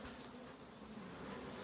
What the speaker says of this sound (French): On observe des abeilles